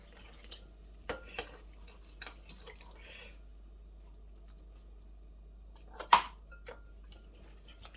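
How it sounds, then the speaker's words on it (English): A fork stirs strawberry glaze made from confectioner's sugar, freeze-dried strawberry powder and water in a bowl, giving a few faint, scattered clinks against the bowl with one sharper tap near the end, and no talk. "we just keep stirring it with a fork until we don't see any lumps in it"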